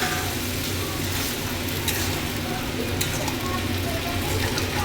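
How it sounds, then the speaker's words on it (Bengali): Pineapple for a chutney, added to fried chillies, sizzles and bubbles in a pan as it is stirred to cook off its juice, a steady close frying sound with faint background noise. "আনারসটা এভাবে নাড়তে থাকতে হবে, যতক্ষণ না এর জলটা শুকাবে ততক্ষণ এটা নেড়ে যেতে লাগবে"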